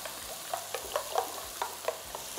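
Eggs fry in a pan on low heat with a soft steady sizzle, broken by gentle scraping or stirring taps at an uneven pace, close by, then a louder scrape at the very end.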